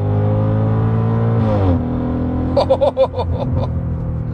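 A Mercedes SLK 55 AMG engine holds a steady rumbling tone, then climbs briefly before settling, followed by a run of sharp pulsing revs or gear-change bursts close to the microphone.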